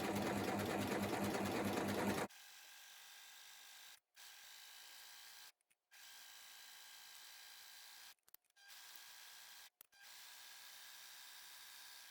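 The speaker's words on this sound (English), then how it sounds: "So I'm going to start by overlocking around the inside of the waistband" An overlocker serges around the inside of a crushed polyester velvet skirt waistband: a loud opening run, then a steadier, quieter whirring stitched in several bursts with short pauses between them.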